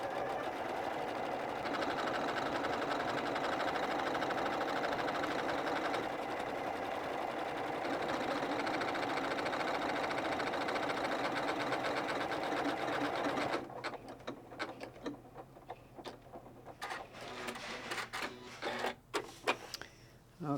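A Janome 9410 sewing machine stitches a buttonhole automatically, a steady fast whirring hum for about thirteen seconds, then it stops and quiet clicks and handling noises follow.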